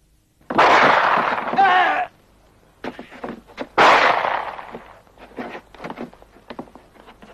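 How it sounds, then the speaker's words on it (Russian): Two loud, sharp gunshot blasts from a 1967 Soviet spy film, each followed by a long noisy decay, come a couple of seconds apart, with quieter clattering and movement sounds between and after them. "Сначала выстрелил вверх, он продолжал все-таки от меня бежать."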